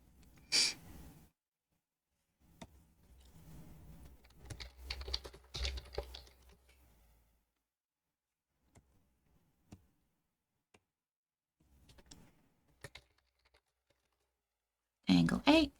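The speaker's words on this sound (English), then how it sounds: "You're gonna hear a lot of typing right now" Bursts of typing on a computer keyboard while working through drawing layers, with stretches of quick keystrokes separated by quiet gaps, some clicks close and loud, mixed with faint background talk.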